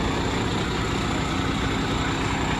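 A truck engine idles close by, a steady, loud low rumble that drones on without change; the truck has a faulty engine leaking diesel.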